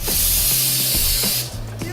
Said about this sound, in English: Why are you spray painting a cake?